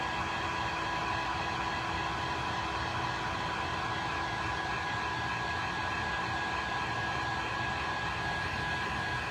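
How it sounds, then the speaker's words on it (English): A heat gun blows steadily to dry a homemade party hat, a loud, even whirring rush of air with a faint steady whine, close and unbroken with no talking. "Okay, so now I'm going to take the heat gun and blow dry this a little bit."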